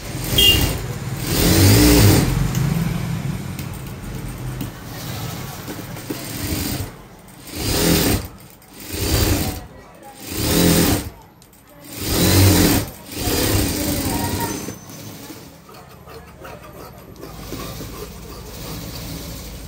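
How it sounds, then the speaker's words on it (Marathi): A sewing machine stitches a blouse in repeated motor bursts of about a second each, running and stopping in a rhythmic pattern, close and fairly loud, no talking. "आता तशीच खाली टीप मारून घ्यायची आपल्याला."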